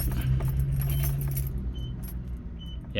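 A car key jingles on its keyring as it is pushed in and turned in the ignition from the lock position, with close, light metallic rattling under a low cabin hum.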